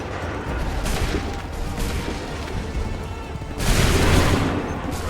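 Massed musket volley in Assassin's Creed III Remastered, a ragged crackle of rifle fire rolling through the line and swelling into a louder, booming burst near the end, with battlefield noise around it.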